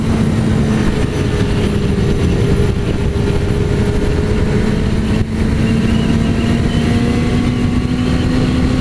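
A motorcycle rides through a sharp curve on a road, its engine a loud, continuous drone that holds a steady pitch and then climbs slightly, heavy wind noise throughout and no talking.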